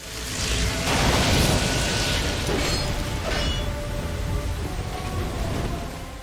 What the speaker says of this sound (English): His battle arena drenched in roaring rain and loud thunder